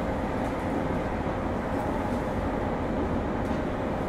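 Steady, continuous rumble of a JR Hokkaido 731 series electric train with Hitachi IGBT motor running between Otaru and Ebetsu, wheels and track noise filling the cabin evenly throughout.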